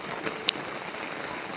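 Rain falls steadily at a camp site where tarps have gone missing, a soft continuous patter with one brief louder drop near the start.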